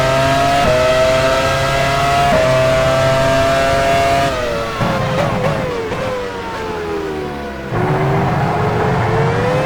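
Formula 1 car engine in the F1 Challenge 99-02 racing game, 2001 US Grand Prix at Indianapolis, revving and whining steadily as it enters the pit lane, pitch dropping and shifting, loud and continuous.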